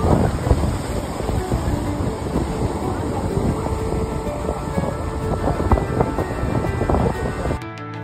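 Strong sea waves crash against the rocky shore at Gangeshwar Temple in Diu, Gujarat, in a loud, continuous roaring surge mixed with wind buffeting, cutting off abruptly at the end.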